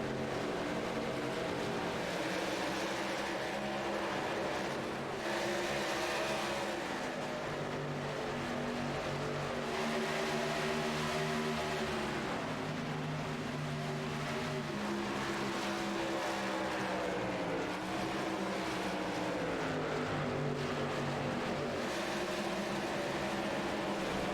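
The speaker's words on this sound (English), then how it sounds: "hear the excitement of the Northwest Truck Series as they roar to turn 1." A pack of Northwest Truck Series race trucks roars around the Charlotte track into turn 1. Loud, continuous engine drone with rising and falling pitch lasts throughout as trucks pass and shift, and no one talks.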